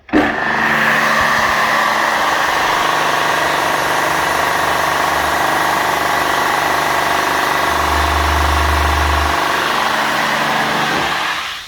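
An electric high-pressure washer for cleaning heat exchangers, a Profi 3.5 rated around 300 bar, runs with a steady, loud motor drone and pump whine throughout. The level stays constant from start to finish with no talking.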